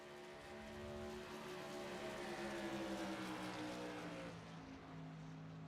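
Modified race cars at Bristol Motor Speedway roar past in a continuous, loud engine drone with shifting harmonic tones as the pack circles the track.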